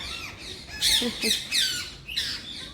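Loud, harsh parrot squawks burst out in a rapid series of shrill calls, close by, just after rain, over a faint background hiss.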